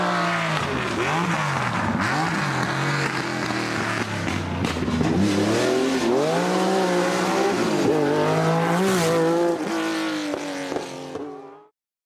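Loud car sound effect: a racing engine revs and shifts pitch while tires squeal and skid, running continuously for about twelve seconds before cutting off abruptly.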